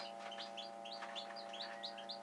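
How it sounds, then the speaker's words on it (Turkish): Newly hatched Cream Legbar chicks peeping in quick repeated high chirps, faint and close, over a steady electrical hum from an incubator or lamp. "Cream Leg Bar civcivlerimiz."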